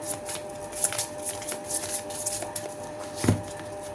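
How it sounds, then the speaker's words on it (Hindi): A deck of cards is shuffled by hand, close and steady, with riffling and flicking crackles running continuously for a few seconds and a slightly sharper snap near the end. "My last shuffle."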